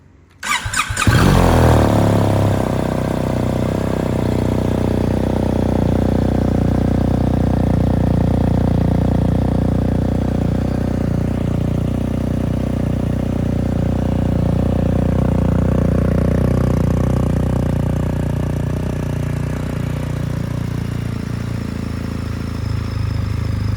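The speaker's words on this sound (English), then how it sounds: "I'll start the bike so you guys could hear what they sound like" A BMW R1300 GS motorcycle engine fitted with DNA Stage 2 race air filters fires up and settles into a steady, throaty idle, loud and close, running on its own with a raspy intake growl.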